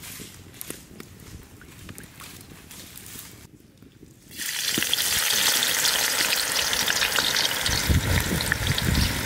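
Sunflower oil heats in a wok over a village cooking fire; after a quiet stretch with faint background noise, a loud, bright, continuous sizzle of frying onions suddenly bursts in and persists to the end.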